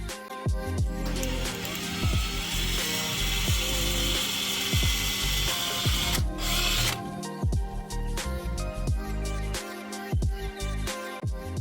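Pilot holes are drilled into a wooden bow stave for the string, with a close, continuous grinding and ratcheting drill whir and short shifts in pitch as the bit works through the wood.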